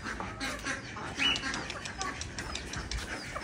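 Ducks at feeding time alongside chickens in a small backyard mini zoo, with scattered faint quacks and bird calls over low rustling background noise, fairly distant and soft.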